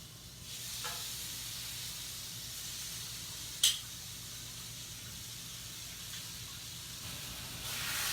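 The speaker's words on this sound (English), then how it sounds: "I just put this pan spray." Cooking spray hisses into a pan in a quiet home kitchen, a steady faint airy spray with one sharp tap near the middle and a louder hissing burst at the end.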